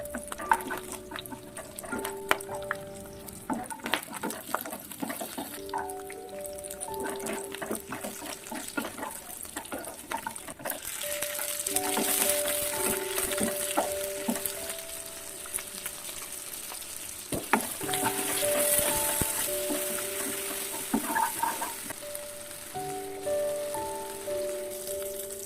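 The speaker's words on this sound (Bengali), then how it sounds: "একই কড়াইয়ে আমি পেঁয়াজ, আদা, কাঁচা লঙ্কা, রসুন, টমেটো এবং লবণ দিয়ে ভেজে নেব।" Onion, ginger, green chilli, garlic, tomato and salt frying together in a wok, giving a steady soft sizzle with occasional stirring scrapes and clinks, fairly quiet and close, with no voices.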